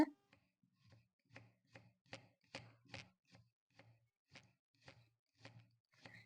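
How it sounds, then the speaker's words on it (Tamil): A knife slices onions very thinly on a board for an egg salad with carrot, beetroot and cabbage, giving about a dozen crisp, evenly spaced chops at a steady rhythm, close and moderately loud, with no talk. "ரொம்ப மெல்லிய ஸ்லைஸா வெட்டிக்குங்க."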